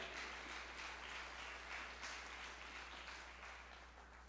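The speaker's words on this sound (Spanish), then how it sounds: "Dale un aplauso al Señor si lo quiere dar" A church congregation claps for the Lord, a faint, steady patter of applause over a low hum, fading slightly toward the end.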